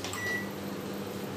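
A microwave oven running, giving a low, steady electrical hum that stays faint and even for the whole moment, with no beep heard.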